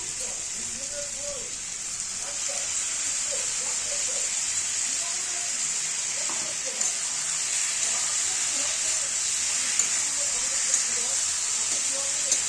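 Ginger fries in masala in a pan while cooking chhyachra, a steady bright sizzling hiss that holds evenly throughout.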